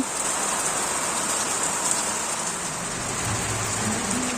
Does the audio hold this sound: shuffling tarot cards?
no